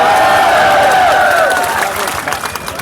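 Crowd applause and cheering at an outdoor political poetry rally in Punhana, Haryana: a dense wash of clapping from a large audience, loud and sustained at first, then easing slightly toward the end.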